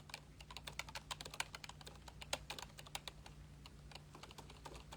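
Rapid, irregular keystrokes on a computer keyboard during a live stream, fairly close and steady for several seconds over a low constant hum, with no talking.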